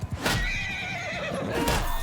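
A horse neighs in the Mount & Blade II Bannerlord video game: two loud whinnies, one near the start and one near the end, with clashing battle noise between them.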